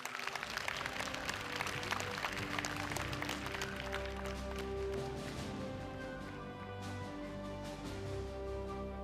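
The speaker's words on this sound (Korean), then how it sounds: "박수 부탁드립니다" An audience at a Korean regional forum applauds after the Busan mayor's presentation, dense clapping that thins out over several seconds while sustained musical tones carry on beneath it.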